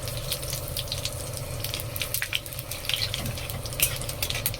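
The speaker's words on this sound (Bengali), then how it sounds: "তেল গরম হয়ে গেছে, একটা তেজপাতা দিয়ে দিচ্ছি ফোড়নে, একটু পাঁচ ফোড়ন" Bay leaf and five-spice seeds sizzling as they drop into hot oil in a pan, a steady close crackling hiss with small pops throughout, no talking.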